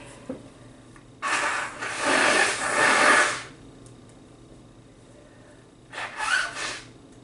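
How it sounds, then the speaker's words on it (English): Two forceful nose blows, a long rough honk followed after a pause by a shorter one, with quiet room tone between. "I'm about to blow my nose"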